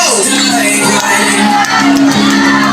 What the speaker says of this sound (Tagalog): Isang masigabong palakpakan sigawan for Mr. and Mrs. Julieto.